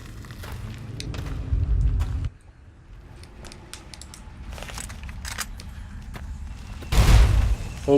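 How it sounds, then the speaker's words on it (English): Deep explosions in Fallout New Vegas near a Deathclaw cave, a heavy rumbling boom at the start and another sharp blast later, with faint clatters and rustles in between. "There's already explosions."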